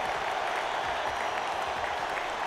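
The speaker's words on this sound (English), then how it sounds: "basking in the applause" Steady crowd applause in the video game Radiant Tale, dense continuous clapping at moderate loudness, with no voices over it.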